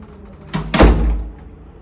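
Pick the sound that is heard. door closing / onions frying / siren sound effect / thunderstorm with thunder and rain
door closing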